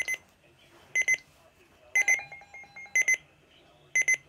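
An Oregon Scientific WR601N alarm clock sounds its alarm: short double-pulse electronic beep bursts repeating once per second, loud and close, with a faint voice murmuring underneath.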